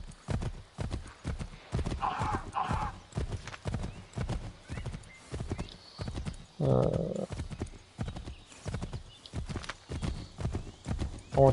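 A horse galloping in the Assassin's Creed III Remastered video game, a fast, steady clip-clop of hooves in a continuous rhythm, with a couple of snorts or whinnies breaking in partway through.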